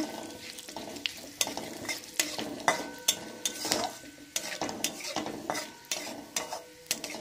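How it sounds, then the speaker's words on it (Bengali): A bay leaf and whole cumin seeds tempering in hot oil for vegetable dal, sizzling steadily while a utensil stirs with rhythmic scraping strokes against the pan, close and with no speech. "একটা তেজপাতা ফোড়ন দিলাম, আর গোটা জিরে ফোড়ন দিলাম। এবার এটাকে আমি ভালো করে নেড়ে নেব।"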